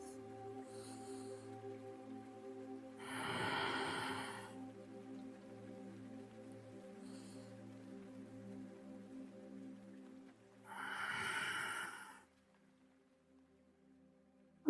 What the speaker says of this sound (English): Take a couple of deep breaths.